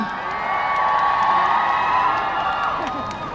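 A crowd at a Skechers grand opening at centralwOrld, with Cha Eun-Woo appearing, cheers and whoops continuously, with high excited voices and a little clapping mixed into a steady roar.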